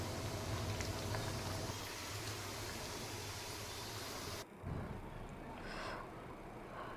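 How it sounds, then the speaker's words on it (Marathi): Jaggery shankarpali, small pieces of sweet dough, fry in hot oil with a loud, steady hissing sizzle that dips briefly in the middle before carrying on. "तळून घेते मी."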